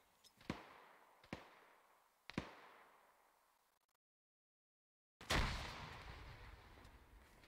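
In a military video game, several sharp detonations thump out at intervals, each decaying quickly, then after a brief dead silence a louder, fuller grenade blast erupts and rumbles on.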